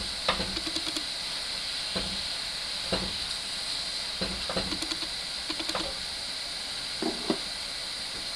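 Ground beef, about 80/20, browning in a pan for gluten-free shepherd's pie: a steady hiss of sizzling fat runs throughout, broken by a series of soft scraping and stirring knocks. No one speaks.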